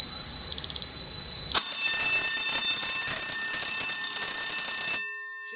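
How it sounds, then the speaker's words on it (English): DSC Power 832 home security system sounding its exit delay warning: a few short beeps, then a loud continuous rapid high-pitched electronic beeping that holds steady for several seconds before cutting off. "And now the exit delay timer is below 10 seconds."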